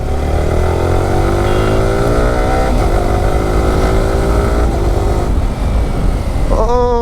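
A black naked sports motorcycle runs loud and steady throughout, its engine pitch climbing and shifting as the rider accelerates, with a brief rise near the end.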